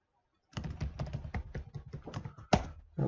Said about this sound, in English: So just type my user ID here and the credentials.